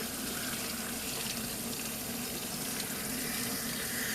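A salon nozzle sprays water to rinse curl booster from permed hair wound on rods, a steady, close hiss of running water with no talking.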